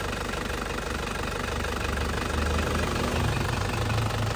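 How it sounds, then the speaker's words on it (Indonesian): A warm 2010 Isuzu Panther Grand Touring diesel engine idles steadily and evenly, a close, continuous mechanical rumble with a light knocking texture and no other sounds. "kondisi mesin sudah panas tanpa keluar asap"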